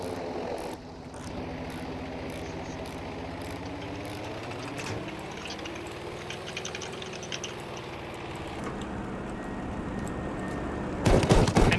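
F4U-A Corsair ground-attack plane in Battlefield V, with a steady droning propeller engine whose pitch rises and falls as it passes, and sharp gunfire bursts at the end.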